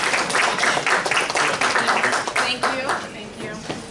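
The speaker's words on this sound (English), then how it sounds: "Take the applause." At a fundraising academy session, the audience breaks into a burst of applause, a ragged patter of clapping hands mixed with voices talking over it, thinning out toward the end.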